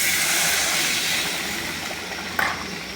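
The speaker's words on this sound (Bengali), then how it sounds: "জলটা ফুটে উঠেছে" Water with sautéed spice masala for egg curry boils in a pot, giving a steady bubbling hiss with one brief louder pop near the end.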